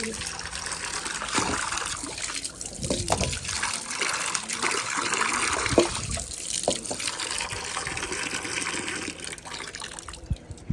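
Water pours steadily into a container with a trickling, gushing sound while someone talks at home, the flow running continuously throughout.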